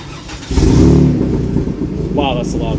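A loud truck revs outdoors at night, its deep roar swelling briefly and then settling into a rumbling idle, with a faint voice near the end.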